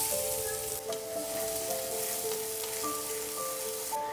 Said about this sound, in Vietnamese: Chiên ở ngoài chảo này đi. Chảo này nhiều dầu quá.